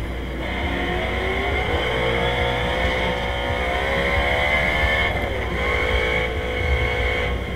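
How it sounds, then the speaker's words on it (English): Stock car in the rFactor racing game lapping Watkins Glen, engine drone with a prominent rising transmission whine that climbs in pitch, drops and climbs again, loud and continuous with no talk. "I like the transmission whine. I don't like the engine sound."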